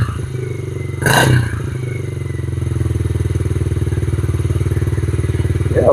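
A Yamaha TTR50E small motorcycle engine idles nearby with a steady, rapid putter, broken briefly by a short clatter or thump near the start.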